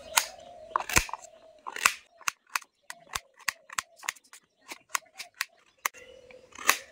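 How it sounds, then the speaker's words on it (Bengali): Carrots being cut into round slices with a knife, a series of sharp, close chopping knocks that come in irregular bursts, with quieter gaps between them. "সব গাজরগুলো আমি ছুরি দিয়ে চাকা চাকা করে কেটে নিয়েছি।"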